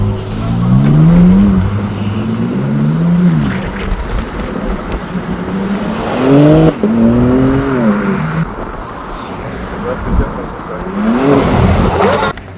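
A 2026 BMW X5M engine revs hard under acceleration, rising and falling in several loud swooping pulls, while people talk and shout excitedly over it.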